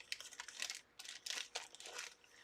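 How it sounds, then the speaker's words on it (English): Plastic bag crinkled by hand at a craft table, short quiet bursts of rustling and crackling in an irregular rhythm, close and faint. "we have a plastic bag that I keep to use"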